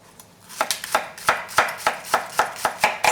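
A knife chops green onions on a cutting board for oxtail soup, with about a dozen crisp, close strikes in a steady, slightly uneven rhythm and no voices.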